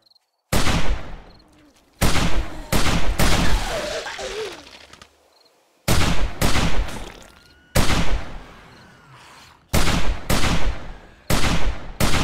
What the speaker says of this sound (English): I'm not even aiming. I'm shooting from the hip.